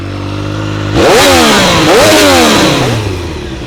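A Triumph Street Triple RS with a low single-sided stainless steel silencer and carbon fiber tip is revved sharply twice at close range, the exhaust rising and dropping each time before settling back.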